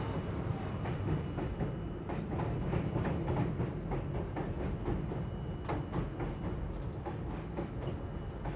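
New York City subway cars on the J line rumble steadily from inside the moving train, with continuous low roar and irregular clicking and clattering of wheels over track joints.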